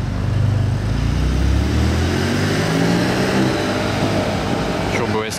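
Porsche Turbo S Cabriolet engine running on a street in Monaco, a steady low rumble throughout with a fading pass-by near the end, moderately loud and close.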